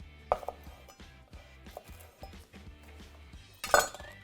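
A knife chops chamnamul herb on a cutting board in a home kitchen, with scattered close taps and light clinks that end in a louder burst, and no talking.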